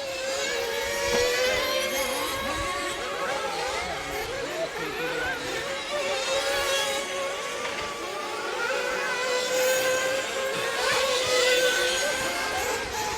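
Nitro RC truggies buzz around a club race track in a season-opening main, a continuous chorus of shrill high-revving small engines that swell and fade as cars pass, with faint crowd or announcer voices underneath.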